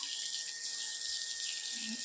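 Water pouring from a household tap, a steady hissing splash running throughout at moderate level, alone without talk.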